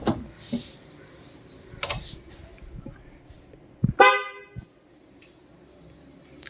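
A newly installed trumpet horn on a Nissan Sunny sounds one short, loud, close honk, set among clicks and handling noises before it and a brief rattle after.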